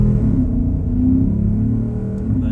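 A Porsche engine with its exhaust open pulls steadily while driving, giving a loud, continuous rumbling induction roar with a smooth harmonic drone and no pauses.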